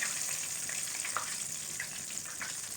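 Chicken drumsticks deep fry in hot oil, a soft, even bubbling sizzle with a few small pops, fairly quiet and steady throughout, no one speaking.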